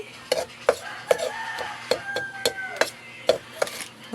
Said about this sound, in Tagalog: Yan, halo-halo lang natin.